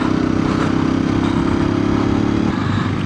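Hero Xpulse 210 dual-sport motorcycle engine running steadily while riding, a loud, close, even drone with a constant hum that eases slightly near the end.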